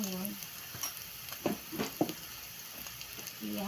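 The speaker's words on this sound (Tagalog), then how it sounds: "Haluin ko ito mga kababayan." Food being stirred in a frying pan, with a faint sizzle under scattered scraping strokes of a spoon against the pan, soft and close, a few of them sharper around the middle.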